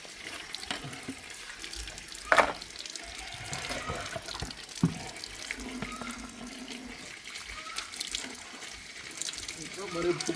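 Water runs from a tap while plastic chicken drinkers are washed at a Boschveld chicken farm. A steady, low-level splashing flow continues throughout, with occasional knocks and clatters, and people talk over it.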